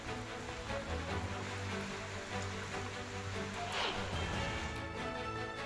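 Unseasonal rain with stormy wind over a town and farmland in Nashik district, a steady dense hiss of rainfall lasting throughout at moderate loudness.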